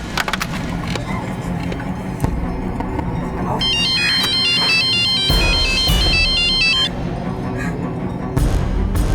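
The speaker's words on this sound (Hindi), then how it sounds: "तुम करो, मैं दीपक के घर पे कॉल करता।" An outgoing phone call rings through a handset as a repeated electronic ringback pattern lasting several seconds, with noisy background sounds and voices around it.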